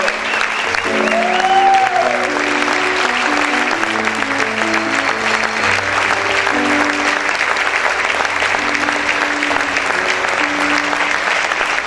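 A church congregation applauds steadily through a service while music with sustained organ-like tones and a singing voice plays, the clapping dense and loud throughout.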